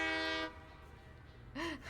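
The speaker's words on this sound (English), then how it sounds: "Train go choo-choo!" A train horn from the video game Satisfactory gives a sustained tonal blast, a pause, then a short rising-falling honk, moderately loud with no speech over it.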